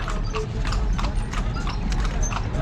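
A horse pulling a tartanilla, a horse-drawn carriage in Cebu, clip-clops along at a brisk, steady pace, with hoofbeats close by over street noise and voices talking.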